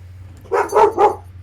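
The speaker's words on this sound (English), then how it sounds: "That's a dog." A dog barks three times in quick succession at moderate distance, each bark full and distinct, over a steady low background hum with no talking.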